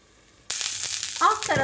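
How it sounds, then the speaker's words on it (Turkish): Food sizzling in a pan over medium heat, fried slowly on its second side; a steady, fairly loud crackle starts abruptly and holds, with brief clatter and a faint voice-like sound near the end. "Diğer tarafını da yine aynı şekilde orta ateşte yavaş yavaş kızartacağım."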